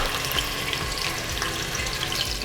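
Pork shoulder pieces frying in very hot lard, a dense, steady hiss and crackle that holds evenly throughout with no voices.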